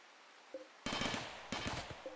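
Defensive turrets in the video game Rimworld open fire on mechanoids, two bursts of rapid gunfire with short electronic beeps before and after, loud and alone.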